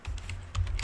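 A few quick keystrokes on a computer keyboard, close and crisp, tapping out a short burst in a quiet room.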